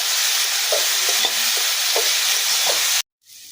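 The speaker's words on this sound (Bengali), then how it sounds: "হলুদ লবণ ভালো করে মিশিয়ে নিয়ে আমি কচুর ফুলগুলো একটু ভাজা ভাজা করে নিব।" Wild taro flowers fry with turmeric and salt in a steady, close hiss of hot oil, with light stirring taps underneath before the sound cuts off abruptly near the end.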